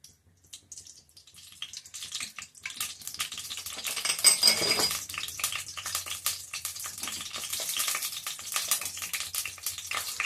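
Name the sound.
oil heating in a pan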